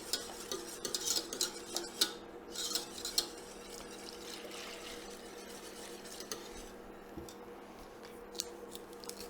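Liquid is stirred into a mac and cheese sauce with onions in a pot. A spoon scrapes and swirls at close range, busier at first and then settling into a quieter, steady stir.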